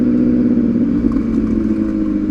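A new MV Agusta SV 1000 motorcycle rides over gravel with a loud, steady engine drone and low rumble. Small clattering ticks come through faintly, but the rocks hitting the bike are hard to pick out.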